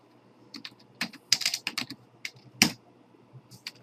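Typing on a computer keyboard during coding, a close run of irregular key clicks with a few louder taps and short gaps between bursts, heard alone.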